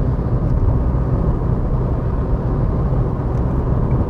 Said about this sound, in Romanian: zgomotele la rulare, zgomotul general de rulare este încă mare